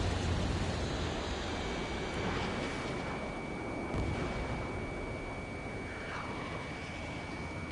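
A missile launch roars in an Ace Combat 7 jet dogfight, a steady loud rushing blast of jet and rocket noise that fills the whole span without pause.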